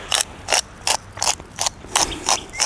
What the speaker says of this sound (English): I'll grind it into here so you can kind of see how much pepper I'm going to add